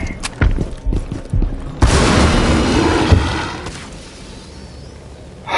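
A cluster charge detonates in the co-op shooter Rainbow Six Extraction: a string of sharp pops and thuds, then one loud booming blast with a long rumbling tail that fades out.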